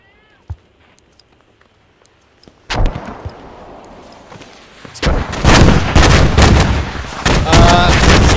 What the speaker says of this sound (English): Cease firing the rockets.